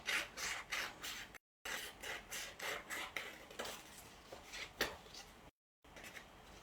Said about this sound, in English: So I'm just cutting out freehand.